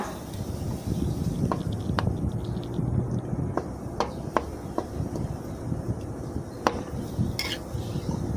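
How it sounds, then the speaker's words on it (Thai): A spatula scrapes and taps against a pan in irregular strokes while green curry paste and coconut cream stir and sizzle softly beneath, fairly close. "ใส่พริกแกงเขียวหวานลงไปผัดกับหัวกะทินะคะ"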